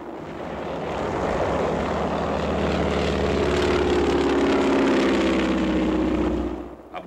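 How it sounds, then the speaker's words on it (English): Low-flying propeller warplanes strafing enemy positions in wartime combat footage, a loud continuous droning engine roar that swells gradually and holds, then fades away near the end. "Low-flying planes strafe the enemy."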